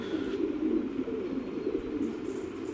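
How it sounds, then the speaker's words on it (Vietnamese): Young squabs, only a few days old, coo softly on a pigeon farm, a steady low murmuring with a faint chirp near the start, heard alone without any talk. "con chim bồ câu đây là mới được vài ngày tuổi thôi mà đã to này này"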